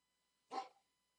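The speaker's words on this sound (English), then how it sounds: "Oh, my dog's angry. Somebody showed up." A single short, sharp bark from an angry dog reacting to someone arriving, heard close and alone against a quiet room.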